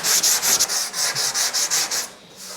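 Hand sanding cured spot putty on a C10 body line with 120 and 180 grit paper, a close, brisk back-and-forth rasp of about ten even strokes before it eases off.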